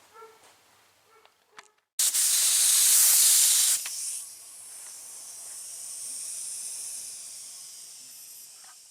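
Black paint sprayed in light coats onto a fiberglass dash pad for a third-generation IROC Z28: a loud, close, steady spray hiss that cuts off, then a quieter continuing hiss.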